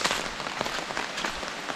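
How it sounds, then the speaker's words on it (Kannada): Heavy rain pours down steadily on a road, a dense close hiss of drops with no voices, as a sudden downpour begins. "ಇವಾಗ ಮಳೆ ಜೋರು ಬರೋದಕ್ಕೆ ಸ್ಟಾರ್ಟ್ ಆಗೇ ಬಿಡ್ತು, ಬೇಗ ಬೇಗ ಹೋಗೋಣ"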